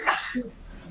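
One quick sneeze bursts out near the mic during a tabletop role-playing game session, sharp and breathy, followed by faint room noise.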